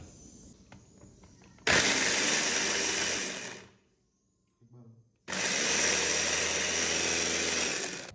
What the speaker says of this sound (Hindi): अब हम इनको ब्लेंड करके प्यूरी बना लेंगे।